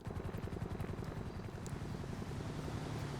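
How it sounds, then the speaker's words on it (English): A helicopter flies overhead, giving a steady rapid rotor thump that stays fairly faint and constant throughout, with no talk. "Heli flying over our top."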